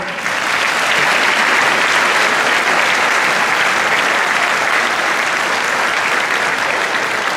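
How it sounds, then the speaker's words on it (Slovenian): Sustained, loud applause from a concert audience fills the whole stretch evenly, a dense wash of many hands clapping with no voices standing out. "da ste vsem skupaj čist premalo glasno zaploskali."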